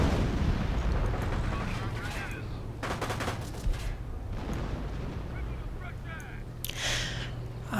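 Artillery barrages thunder across a Company of Heroes battlefield as shells target a German Pak 38 anti-tank gun, dense continuous booms and crackling blasts rolling throughout, with sharper volleys near the middle and end and a voice talking underneath.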